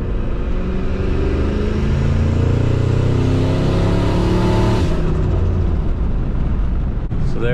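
A stock Ford Triton 5.4L truck with a single turbo accelerates under boost. The engine drones loud and close, its pitch rising steadily before a gear shift cuts in near the end.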